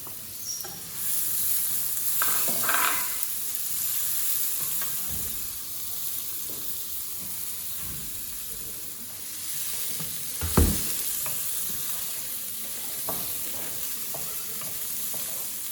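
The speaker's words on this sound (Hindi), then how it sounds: "अब मैं इसमें डाल रही हूँ प्याज, चॉप करके रखा हुआ था।" Chopped onions fry in a pan with a steady, moderate sizzle and hiss, punctuated by occasional stirring knocks and one sharper clatter, with no speech.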